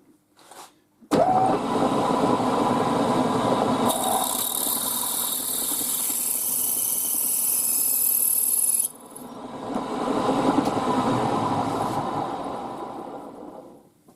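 An 8.2mm drill bores into a metal WW2 windscreen bracket on a machine, a loud steady grinding and whine that starts abruptly, holds with a high squeal, then drops and swells again toward the end, with no talk.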